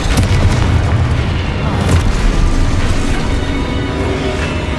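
Fire-spell explosions in Hogwarts Legacy, the Confringo curse, give a dense run of deep booms and rumbling bursts that fills the whole stretch loudly, layered over game effects with no speech.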